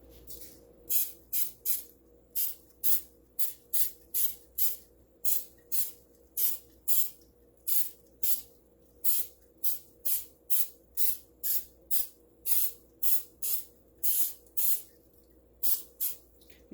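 Coconut oil is sprayed into a muffin tin in rapid short bursts, about two dozen quick hissing spritzes in an uneven rhythm, close and fairly quiet, with no talking.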